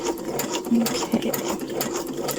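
A sewing machine back stitches near the end of a seam on a photo album journal, a close, rapid mechanical chatter with quick rhythmic stitching bursts.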